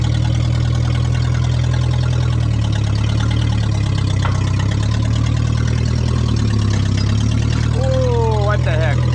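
A tractor engine runs loud and close at a steady idle with a fork and lifter attached, its low throbbing drone rising and falling slightly, with a brief squeal near the end.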